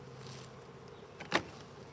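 Honey bees buzz around a nucleus colony hive being installed, a soft continuous hum with a brief louder buzz as one bee passes close near the end.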